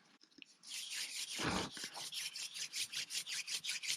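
A wooden hand drill spindle spins against a fireboard to burn a hole for a primitive desert fire, a dry rhythmic rubbing rasp repeating in fast back-and-forth strokes that grow louder and steadier, close up and alone.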